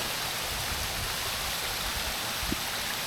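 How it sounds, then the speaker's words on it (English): Blairskaith Linn, a pair of waterfalls, pours in a steady broadband rush of falling water, constant and fairly close, with no voices over it. "2 waterfalls"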